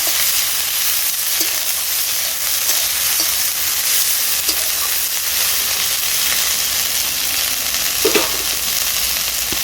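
Papaya leaves and dhenki greens fry and get stirred in a pan, a steady broadband sizzle running throughout with soft scraping strokes of the spatula at intervals, close and constant.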